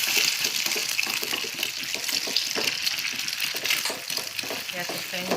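Two eggs frying and being stirred in a hot pan, a dense, continuous crackling sizzle with a watery, gushing edge, loud and close throughout.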